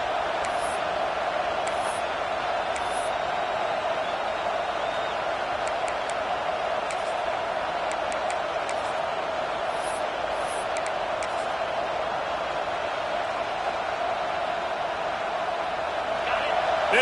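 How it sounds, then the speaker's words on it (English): A college football stadium crowd roars as one steady, dense wall of noise, with whistles and shouts rising now and then, and a broadcast voice talking over it. "This crowd trying to make life miserable for this offense."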